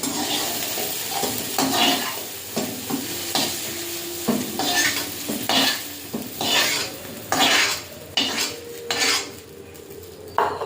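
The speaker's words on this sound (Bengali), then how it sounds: "তুলে নিয়ে উচ্ছেটা ভেজে নেব।" Bitter gourd frying in a pan, heard close as a light sizzle under frequent rhythmic scrapes and clanks of a spatula against the metal, coming in uneven bursts.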